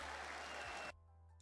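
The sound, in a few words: round of applause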